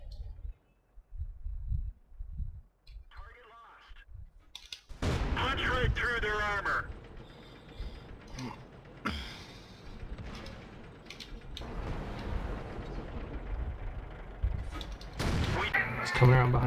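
Tank cannon shots in World of Tanks, played with a T29 heavy tank: a few sharp booming blasts stand out among engine rumble and game noise, while players talk over voice chat.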